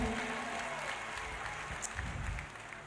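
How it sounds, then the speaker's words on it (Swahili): A church congregation claps together in a short, warm burst of applause, a dense patter of many hands that tapers off near the end. "Tupige Yesu makofi mazuri"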